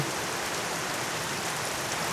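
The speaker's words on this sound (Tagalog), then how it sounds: "Lumakas na naman po yung ulan." Heavy rain falling on rice fields, a dense, even hiss of downpour, loud and close, with no voices.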